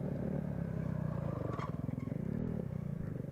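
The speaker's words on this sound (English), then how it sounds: "He's on a 450. Can really lug that thing at the low RPM." A 450cc off-road motorcycle racing through the woods at a GNCC bike race, its engine lugging at low RPM in a steady, close, chugging drone throughout.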